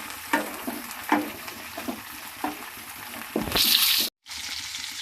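Cauliflower and potato pieces with other vegetables frying in oil in a pan, giving soft repeated stirring scrapes over a low sizzle that swells into a brief bright hiss before a sudden cut.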